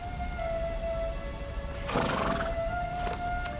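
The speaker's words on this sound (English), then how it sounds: "Your horse's name was Obsidian" Horse neighs and clip-clops in the video game Dragon Quest XI: a loud whinny bursts out about halfway through over a steady game backdrop, with a couple of brief sharp sounds near the end.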